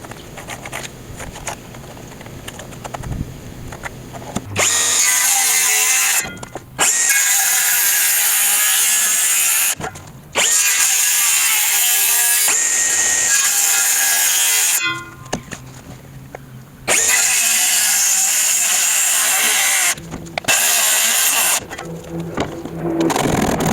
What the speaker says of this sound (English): We're gonna trace out our scarf, and then we'll cut it on the other one.